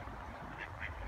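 Two short quacks from ducks, close and fairly faint, one just after the other over a low background rumble.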